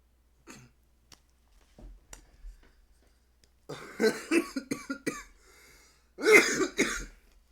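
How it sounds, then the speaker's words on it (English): Person with ARFID coughing while eating fish: scattered small throat sounds at first, then a cluster of several loud, harsh coughs followed by another close burst. "ARFID makes me cough when I get scared."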